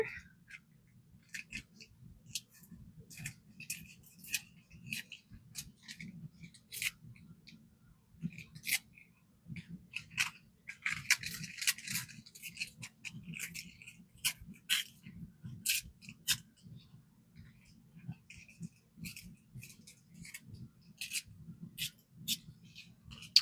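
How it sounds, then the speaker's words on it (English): Paper is torn slowly and carefully around its edges to leave a ragged border for a December Daily scrapbook page. Soft, intermittent crackling rips and crinkles come in short bursts over a low steady background hum, with no talking. "do a raggedy edge. Very carefully tear."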